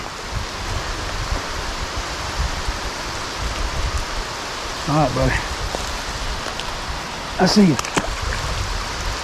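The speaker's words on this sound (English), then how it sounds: "And it's raining hard." Heavy rain pours down outdoors during a fishing trip near a truck, a steady, loud hiss that fills the whole stretch. Someone speaks briefly over it twice.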